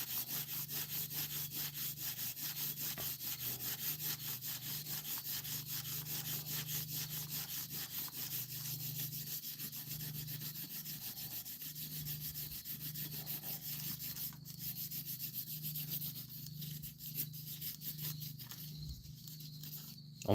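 Steady rhythmic scraping of old gasket remnants from a cylinder head on a 1996-2005 Chevy Astro, a close repeated rasping stroke that continues without pause and without talking.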